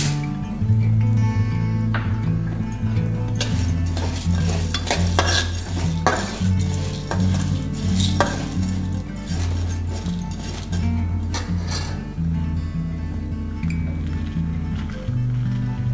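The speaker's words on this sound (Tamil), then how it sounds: "லேசாக ப்ரௌன் கலராக வறுத்துக்குங்க" Urad dal and chana dal dry roasting in a pan, with a spoon clinking and scraping against the metal repeatedly over a steady low hum, close and continuous.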